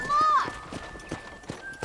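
Horse hooves clip-clopping in Red Dead Redemption Remastered on PC, a quick run of soft, evenly spaced hoof falls close by, with a brief whinny-like tone at the start.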